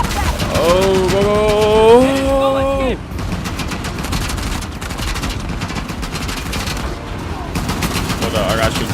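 Rapid automatic gunfire fills the scene during a train-wreck sequence in Uncharted: The Lost Legacy, loud and continuous, and a tonal sound at the start gives way to sustained shooting.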